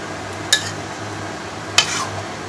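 Two clinking hits of metal pots and utensils while boiled banana stem is strained and washed in a kitchen, spaced about a second apart against quiet background.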